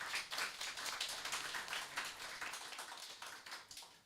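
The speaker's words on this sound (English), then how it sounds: "Can you give him another round of applause, please?" Quiet applause from a seminar audience at a law fair, with individual claps audible in a steady patter over several seconds.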